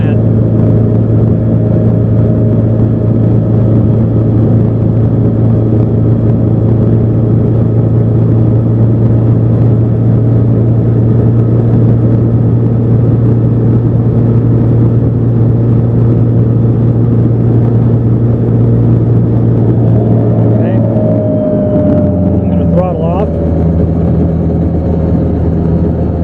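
A Mini-500 helicopter engine runs loud and steady with a constant low drone. Near the end the pitch shifts as the rotor engages and begins spinning up.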